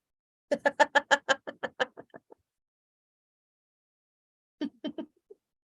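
A chicken clucks in a rapid run of about a dozen sharp calls, falls silent, then gives a short second burst of clucks, close and loud.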